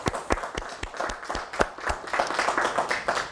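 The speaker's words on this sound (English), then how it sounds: "could I ask for a quick round of applause again for my wonderful guests?" A small audience claps for guests after a talk on living with Alzheimer's disease, distinct close hand claps building into a brief round of applause.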